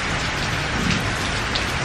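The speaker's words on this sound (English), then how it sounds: "Give you a bit of insight to what happens in Thailand when it rains." Heavy rain pours down steadily during a storm in Thailand, a dense, continuous hiss of drops drumming on surfaces at close range with no break and no voices.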